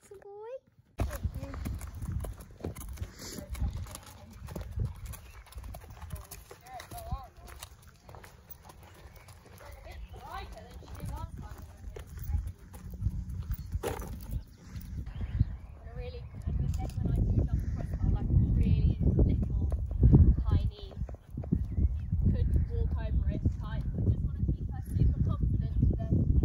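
A young showjumping horse shifts about inside a horse box, making hollow clip-clop thuds on the floor that grow louder and busier toward the end. A person speaks softly over the early part.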